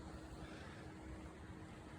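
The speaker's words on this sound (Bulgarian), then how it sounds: "И реката се чува." A river flows steadily somewhere below a forest trail near rock slides, a soft, even rushing wash with no breaks, faint and distant.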